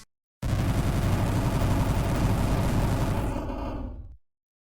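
Rapid fireball shots in an indie video game with no recovery frames, a dense unbroken stream of booming blasts that starts abruptly, holds loud for several seconds, then trails off into silence.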